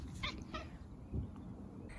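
A contented pet cat in a UK camper van gives a couple of soft, short meows close by, faint and brief against a quiet interior hum, with no talking.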